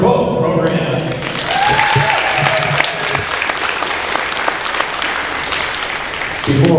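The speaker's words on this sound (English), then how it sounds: "Please give a round of applause for both programs." Loud crowd applause for two collegiate women's wrestling programs at an Elmhurst versus Manchester meet, with a few voices and a thud at the start before the clapping swells into a full, steady ovation that tapers off.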